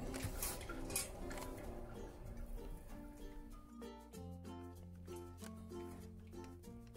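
A lid settles back onto a pot of simmering beef pares in a home kitchen, a clatter of metal knocks early on, then faint ringing clinks and a low steady simmer, quiet and close.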